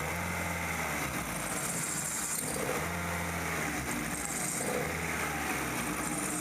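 A 1.8-litre DOHC Kia Sephia engine idles roughly with a misfire, a close, steady mechanical drone with an uneven pulsing beat that repeats about once a second.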